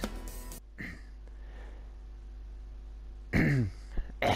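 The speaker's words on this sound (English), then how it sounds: "clear my throat" A person clears their throat a couple of times, short rough bursts separated by quieter room noise.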